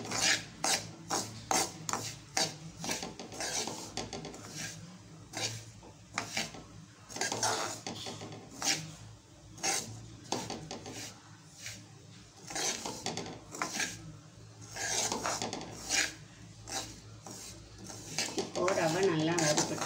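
Semolina roasting in plenty of ghee for kesari is stirred with a utensil, giving repeated rasping scrapes against the pan in an irregular rhythm that runs throughout, close and moderately loud.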